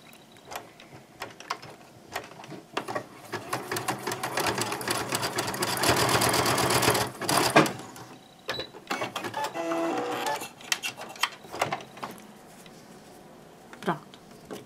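A sewing machine rapidly stitches a fabric bag for holding a vaccination card, with bursts of fast mechanical whirring and clatter that stop and restart, and someone speaking between runs.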